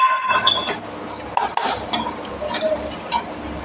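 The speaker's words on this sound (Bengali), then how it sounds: "এবার দিয়ে মশলাটা কষাতে থাকবো।" A masala of ginger paste, garlic paste, cumin paste, turmeric and meat masala is stirred and fried in a pan for a rohu fish curry with papaya, giving a steady close sizzle under scraping spoon strokes and light clinks.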